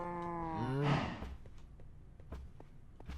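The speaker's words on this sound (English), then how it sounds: "we just need to put in the 2 cows" Two cows moo in Minecraft with the Agrarian Skies 2 modpack: one loud, drawn-out moo near the start that falls in pitch, then soft clicks and faint ambient noise with no talking.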